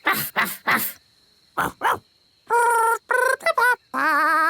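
Gaston the cartoon ladybird from Ben and Holly makes his barking, gobbling dog-like call in short loud bursts, alternating with clipped character voices speaking between the yelps.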